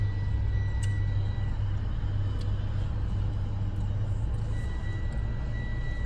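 Mitsubishi RVR driving on a closed course, heard from inside as a constant low engine and road rumble with faint brief clicks over the top, no speech.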